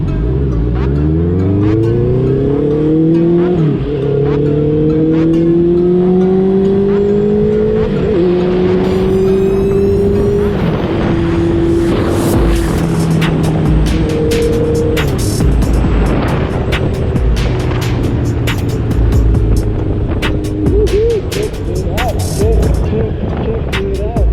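Honda CB650R motorcycle fitted with a full exhaust system warms up, its engine note rising and settling through steady revs for the whole stretch, loud and close.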